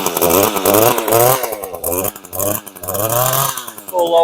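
A small two-stroke engine runs at half choke, buzzing close and loud with a rough, wavering pitch that rises and dips. A voice speaks briefly over it.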